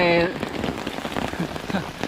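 Rain falls at a riverside campsite below the Pa Sak dam by a railway line in Lop Buri, Thailand, a steady close patter of drops on surfaces throughout, with a brief tonal sound at the start.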